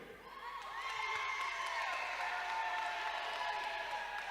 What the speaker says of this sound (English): I would expect you people to cheer that